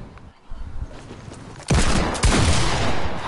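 Fortnite gunfire bursts loud and close, a quieter volley first, then a heavy sustained barrage of rapid shots through the second half.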